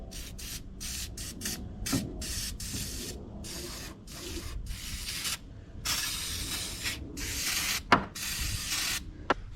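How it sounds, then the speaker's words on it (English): Engine degreaser is sprayed under the hood of a Saab 9-5 in a series of close, loud aerosol hisses. The bursts are short and repeated, followed by longer sustained sprays, with no talking. "I'm gonna go ahead and get some engine degreaser, and I'm just gonna degrease this area here"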